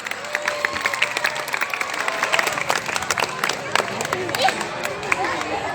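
Students at a school student-council candidate debate clap, with a burst of scattered applause mixed with crowd chatter and murmuring voices in a hall, moderately loud throughout.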